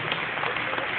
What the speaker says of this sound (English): Let's give our bishop one more round of applause.